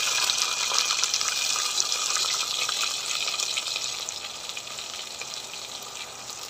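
Red tomatoes dropped into onions frying in a pan for vegetable pulao, producing a bright, continuous sizzle with a watery hiss that eases slightly over time, close and alone with no voices.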